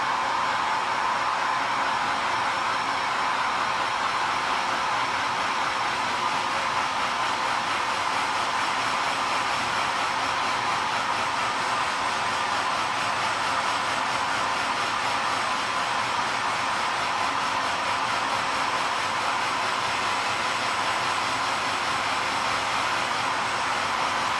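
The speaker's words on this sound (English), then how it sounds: "Just correcting any issues where there's pooling when you're drying with a hairdryer." A hairdryer blows on freshly painted tabletop miniatures of Lannister mountain men, producing a loud, steady, unbroken whoosh that holds at the same level throughout without talk.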